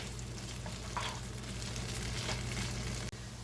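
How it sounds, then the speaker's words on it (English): Green beans sizzle in a hot pan for a linguine dish, a quiet, steady frying hiss with a few faint stirring scrapes near the start, no talking. "I'm going to add my green beans to it. And I'm going to stir and cook this for 5 minutes."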